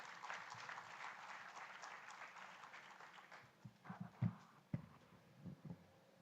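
An audience welcomes a speaker with applause, a soft, distant patter of clapping that thins out, followed by a few louder scattered claps and knocks nearby.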